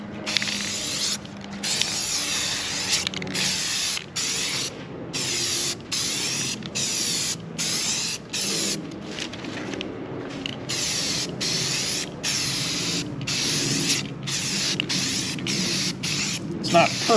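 Spray can applying a light final coat of paint to a wheel rim, short close hissing bursts repeated in a steady rhythm with brief gaps between passes.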